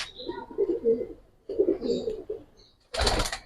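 Lal Pati Giribaz pigeons coo in a loft, two soft low throaty phrases close by, followed by a short burst of rustling or flapping.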